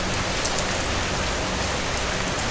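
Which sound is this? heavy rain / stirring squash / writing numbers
heavy rain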